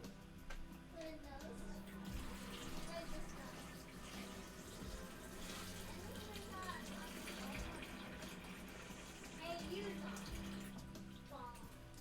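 Hot tap water running steadily into a cooking pot in a home kitchen, a continuous splashing rush lasting throughout, with people talking over it.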